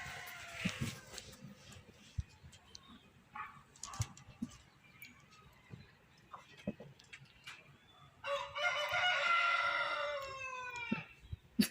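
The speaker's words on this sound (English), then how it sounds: "And there goes the fowl. Letting you know approximately what time it is." A rooster in Trinidad crows outdoors, with scattered faint clucks and clicks across the clip and one fuller, loud crowing call near the end.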